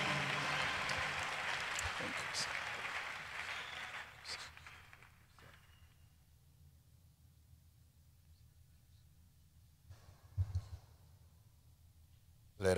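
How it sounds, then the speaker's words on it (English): A church congregation claps loudly to welcome a preacher onto the stage. The dense applause fills the first few seconds, then thins and dies away into a quieter hall with a voice speaking and a few scattered knocks. "Clap your hands as the servant of God comes."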